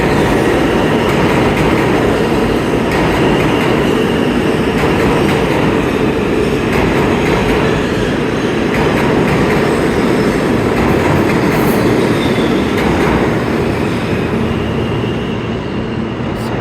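New York City subway trains, R179 and older R46 cars on the A and C lines, rumble through Penn Station on the 8th Avenue line, a loud, continuous roar of wheels and rail clatter that holds steady throughout with no talking.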